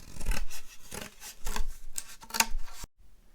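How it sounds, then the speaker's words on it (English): Scissors slicing lengthwise along a long cardboard gift wrapping tube, a series of near, rasping cuts in rhythmic bursts, then a brief quiet at the end. "with my scissors, I'm going to cut it lengthwise"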